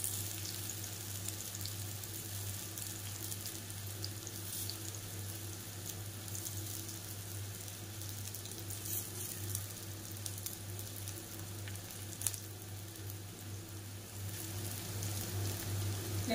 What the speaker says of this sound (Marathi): आपल्याला वन साइडच त्या वांग्यांना फ्राय करायचंय